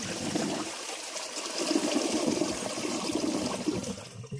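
Rushing, gurgling water from a Project Source toilet flushing after a grocery bag test, steady and fairly loud throughout, close to the bowl with no talking.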